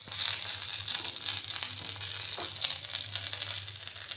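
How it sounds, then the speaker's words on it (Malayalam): Ivy gourd pieces deep frying in hot oil for a roast, giving a steady, close, loud crackling sizzle that runs throughout with small popping bursts. "ഇതുപോലെ മറ്റുള്ളത് നമുക്ക് വറുത്ത് കോരാം."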